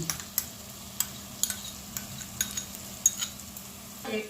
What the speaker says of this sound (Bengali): এটাকে আমি কষতে থাকছি